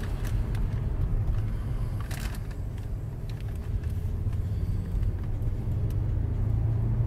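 Engine of a 2009 Mercedes SL550 while driving, a steady low rumble of road and motor noise at constant speed, with no talking.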